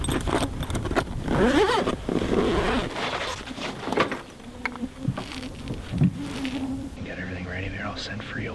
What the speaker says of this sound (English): Bugs are crazy.